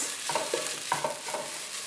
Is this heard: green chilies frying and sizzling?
yes